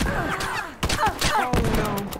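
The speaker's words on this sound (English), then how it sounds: "They got a machine gun." Raiders' machine gun fire in the survival game Farworld Pioneers, heard as rapid bursts of sharp gunshots with short gaps, loud and close, mixed with other game sounds.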